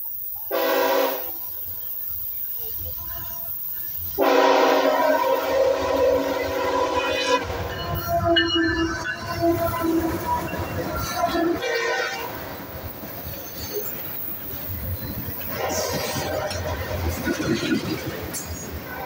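Freight garbage train led by a GE locomotive passing a riverside park in New York: horn blasts sound near the start and again mid-pass, followed by rumbling wheels and rolling cars close by, with a voice talking at points.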